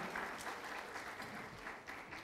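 An audience at an event on electronic government claps steadily after a talk, a sustained, moderately distant applause with no voices on top.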